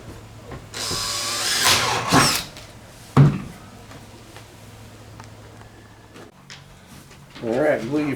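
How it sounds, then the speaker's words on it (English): A power drill bores holes in the end of a pipe for a DIY water filter, with short whirring bursts and a sharp clunk among clatter, while someone talks between the bursts. "Go ahead and drill you a couple of holes in the end of this thing so that you can hang it."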